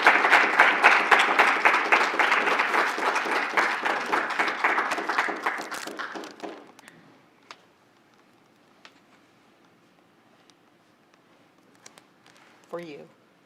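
Audience applause at an annual awards and installation ceremony for a board member, dense clapping for about six seconds that then fades into quiet room noise, with a brief voice near the end.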